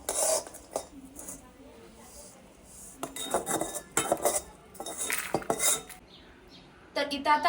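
Metal utensil scraping and clinking against a pan in repeated bursts, as roasted coconut is scooped out, with quiet stretches between.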